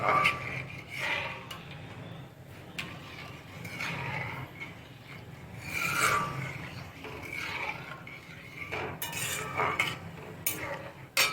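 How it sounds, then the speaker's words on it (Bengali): Watermelon juice with cornflour is stirred continuously in a pot, a spoon scraping and clinking against the metal in repeated close strokes at a moderate level. "এবার ফুটে আসা পর্যন্ত একটু নাড়তে থাকবো অনবরত"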